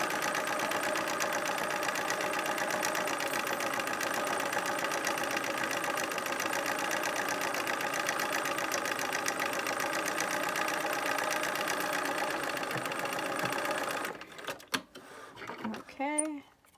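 A domestic sewing machine runs a straight stitch across fabric in a steady, fast, even whirr for about fourteen seconds, then stops, leaving a few handling clicks and rustles.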